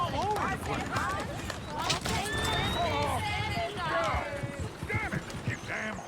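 Horses in the video game Red Dead Redemption II clop their hooves and whinny amid a busy scene, with someone talking loudly over them throughout.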